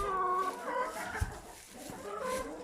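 Chickens clucking softly inside a coop by a nesting box, a low steady run of hen calls at moderate distance, with no voices over them.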